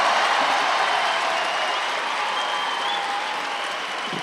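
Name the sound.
French crowd cheering at judo Grand Slam Paris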